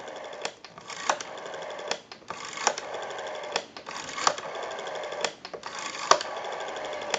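A Western Electric 302 rotary desk telephone is dialed repeatedly, each pull followed by a smooth, whirring return with rapid clicking pulses. The pattern repeats several times, up close and on its own.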